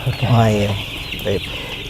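Commercial farm chickens raised for business cluck close by, a couple of short throaty calls over a steady background hum of the poultry house.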